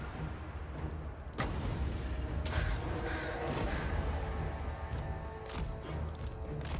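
Bird spell breath attack in a video game, a loud rushing burst that starts abruptly and sustains with layered whooshing and a few sharper hits, no talking.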